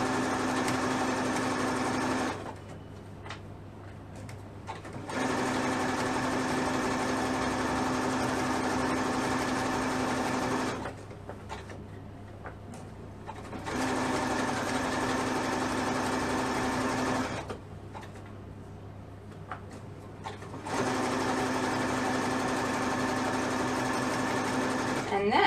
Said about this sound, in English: I'm just sewing around the base of the elastic now,